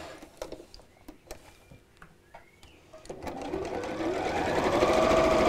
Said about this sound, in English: I'm going to sew all the way around the edge